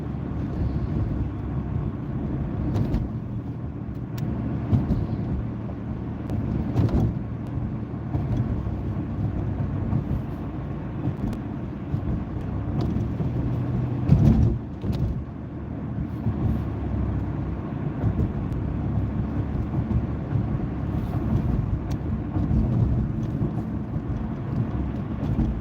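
A car driving on a terrible, rough road and wandering across the lane produces a loud, steady interior rumble with bumps and jolts throughout and no talking.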